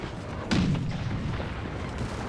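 Cannon fire in Empire: Total War, a single booming shot near the start that rolls off into a distant rumbling battlefield ambience.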